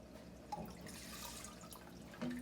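Aquarium water draining out through a Python water changer hose into a sink, a steady quiet trickle with faint drips.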